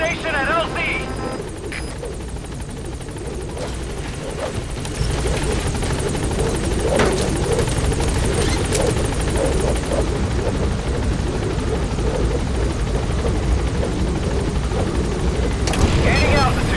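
In the Metal Gear Solid V video game, the Pequod helicopter arrives at a landing zone with a loud, steady rotor roar and engine drone that intensifies midway, while a radio voice speaks over it.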